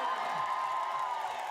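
A crowd at a rally on the steps of a state capitol makes a dense, continuous roar of voices and cheering, loud and steady throughout the short stretch.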